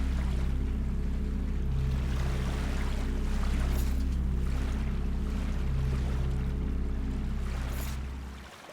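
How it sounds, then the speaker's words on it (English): Waves washing against rock on a shoreline in the video game Salt and Sanctuary, a continuous broadband wash with steady low ambient hum, no speech. "I awoke to the sounds of waves washing on rock"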